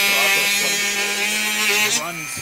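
A Dremel rotary tool whines at a high, steady pitch close by during a model build, its tone wavering slightly as the load changes, with a voice talking over it.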